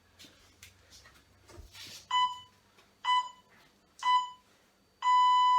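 Workout interval timer sounding four loud electronic beeps about a second apart, the last one held longer, during an abs and core exercise session.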